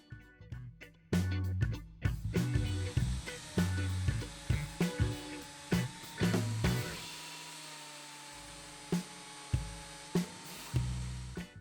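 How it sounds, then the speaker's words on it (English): A BS33 thickness planer smooths a wooden block for a knife stand, giving a loud, steady motor whine broken by repeated bursts of rough cutting as the board feeds through, with a brief quieter stretch midway. "smooth it all out with a BS33 thickness planner"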